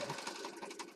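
A sewing machine runs steadily and close for about a second, stitching a junk journal page with lace.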